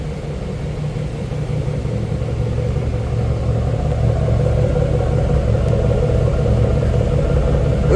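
An old truck's independent engine idles in a junk-filled garage, a steady low rumble with a constant hum that grows slightly louder and holds even, running alone without voices.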